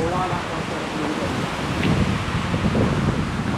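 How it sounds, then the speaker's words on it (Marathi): Strong wind buffets the microphone on a mountain trek to Gorakhgad fort, a steady loud roar with no pauses and gusts swelling toward the end. "जबरदस्त वारं."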